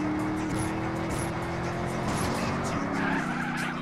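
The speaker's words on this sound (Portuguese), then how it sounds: "O cara queimando o pneu ali." Tire squeal from a car burning rubber in GTA San Andreas multiplayer, a steady rubbery screech over a loud engine drone that runs through the whole stretch.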